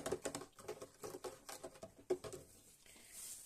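Quick, close clicking and scraping as a spoon stirs a salt and sugar mixture for bread in a bowl, in an uneven rhythm with a short pause near the end.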